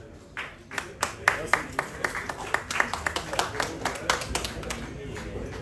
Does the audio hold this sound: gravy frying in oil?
no